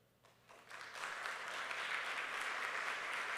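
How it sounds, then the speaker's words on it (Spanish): A church congregation breaks into applause, starting quietly and swelling within a second into a steady, dense wash of clapping that holds evenly to the end, with no talk over it. "De un fuerte aplauso."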